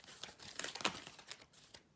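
Tarot cards are shuffled by hand, giving soft, quiet riffling and crinkly slaps in uneven bursts, close to the microphone with no talking.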